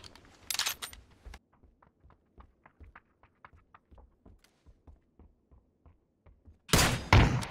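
A shotgun fires in a video game, with a rapid series of faint, evenly spaced sharp reports between louder bursts of noise at the start and end.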